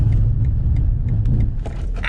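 A BMW M440i braking hard from 60 to a stop, heard from inside as a steady low road and engine rumble with light rattles and clicks that thin out as the car slows.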